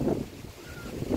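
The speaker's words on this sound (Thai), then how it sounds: "โอ้ยลม" Wind blows outdoors at a rice harvest, buffeting the microphone as a low, rushing roar that swells and fades over about a second.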